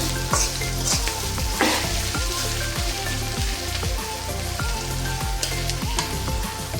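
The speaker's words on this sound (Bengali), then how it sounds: "নুন দেওয়াতে পেঁয়াজগুলো আমার আরেকটু ভাজা ভাজা হয়ে যাবে" Chopped onions frying with salt in oil in a pan for prawn curry, with a loud close sizzle and rhythmic scraping strokes of a spatula stirring every half second or so.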